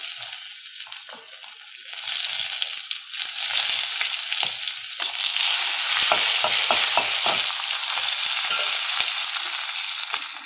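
Green chilies and ginger pieces frying in a hot pan give a steady, close sizzle, with a run of stirring scrapes partway through and no talk.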